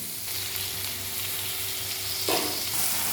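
Garlic frying in a pan gives a close, steady hissing sizzle with light spatters, and a brief louder burst of crackling near the end.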